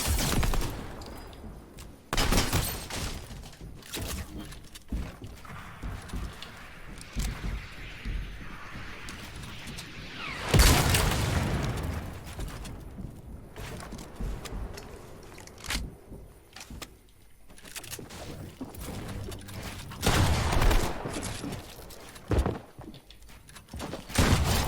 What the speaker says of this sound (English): The amount of rockets that have gone off in this fight is absolutely ridiculous.